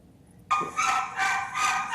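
Two excited dogs, one with a distinctly high-pitched bark, go off suddenly after a quiet start, giving three or four rapid overlapping barks at fairly close range, loud and bright, with no speech during them.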